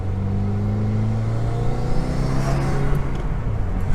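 A 2015-or-later Subaru WRX with a Cobb intake accelerates gently on a cruise, engine tone climbing smoothly as a steady rumble from inside the cabin, with no voices.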